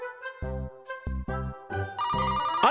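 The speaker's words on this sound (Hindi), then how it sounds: "अरे पांडव फोन तो उठाओ जरा" A telephone rings in a detective cartoon, repeated electronic ring bursts with short gaps, clear and close, with bright musical tones over them and no talk.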